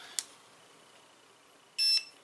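A portable electric pulse neck massager gives two short electronic beeps as it powers on, a brief chirp followed by a longer tone, close and clear against a quiet room.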